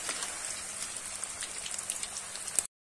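Potato pieces fry in hot oil, browning to a reddish color. The oil gives a close, steady sizzle with fine crackles and pops that runs nearly three seconds before cutting off.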